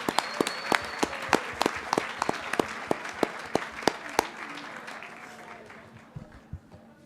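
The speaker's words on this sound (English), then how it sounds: "we could all give her a round of applause" Applause at a Board of Education meeting welcomes a new board member: a few sharp, evenly spaced claps ring out steadily for about four seconds, then thin into scattered taps and room noise.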